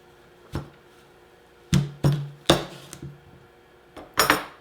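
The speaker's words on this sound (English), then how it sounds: "I'm going to take my knife and I'm going to cut at an angle just below that stem." A knife cuts into an apple at an angle just below the stem, making a handful of sharp, quiet knocks and scrapes against the cutting surface, spaced irregularly and heard up close.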